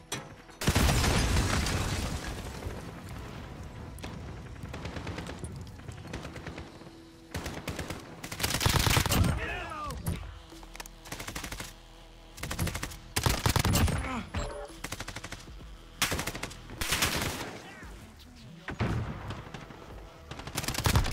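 Gunfire in Call of Duty: Modern Warfare (2019) on the Cheshire Park map comes in loud, rapid automatic bursts and single shots separated by short pauses, with players talking in between.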